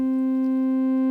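A pure sine tone pushed through a saturation plugin at maximum drive, a steady buzzy hum thick with stacked overtones, holding constant and alone for about a second.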